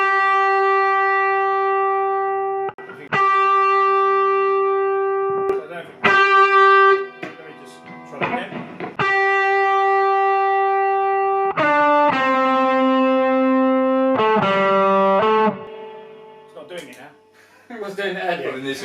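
Overdriven electric guitar through a Dumble-style amp, sustained notes and chords ringing loud and saturated with a few gaps between phrases, no talk over it.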